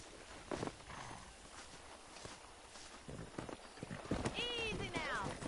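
Horse hooves clip-clop in a steady walking rhythm through a Red Dead Redemption video game scene near wild horses, moderately loud, with a horse whinny and people talking over it.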